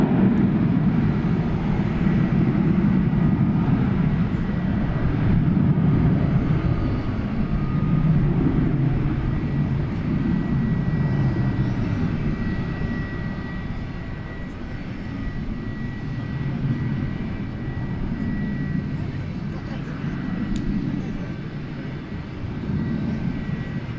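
A jet airliner taking off at DFW International Airport roars with a broad, steady engine rumble. It swells and eases slightly as it passes, heard from a distance with no voices.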